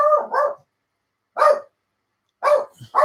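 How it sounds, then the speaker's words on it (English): A dog barks close by in short, sharp bursts: two quick barks, a pause, a single bark, then two more after another pause, in an otherwise quiet indoor room. "Sorry about, apologies for that, the dog."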